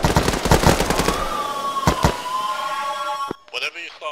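Rapid gunfire at vampires in the video game Pulau, a dense burst of shots followed by two sharp reports and a trailing tone, with a voice talking near the end.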